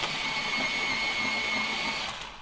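Watercolor pencils being sharpened, probably in an electric sharpener, giving a steady, close, high-pitched motor whine that holds for about two seconds and then fades as it stops.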